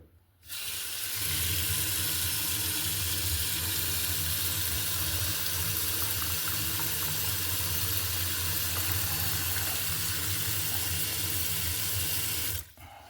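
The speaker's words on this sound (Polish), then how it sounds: "Ja sobie teraz zaleję wodą." Tap water runs into a pot over lamb ribs for pinnekjøt, a steady loud gushing stream from start to near the end, then cut off abruptly.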